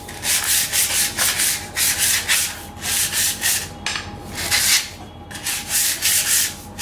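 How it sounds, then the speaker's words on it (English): Hand sanding of a wing spar to scuff its glossy surface, heard as close, rhythmic back-and-forth rasping strokes in quick regular pulses with no talking. "sand the spar a little bit to make sure the epoxy adheres well by scratching the shiny surface"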